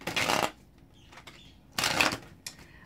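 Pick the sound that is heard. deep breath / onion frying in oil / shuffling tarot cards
shuffling tarot cards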